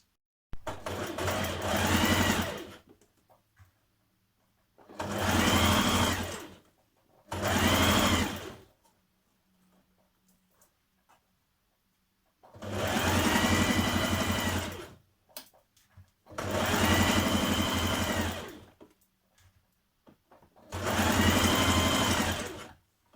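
A sewing machine stitching a playsuit seam, the garment refashioned from a duvet cover, running in six loud, close bursts of rapid whirring, each a couple of seconds long, separated by near-silent pauses.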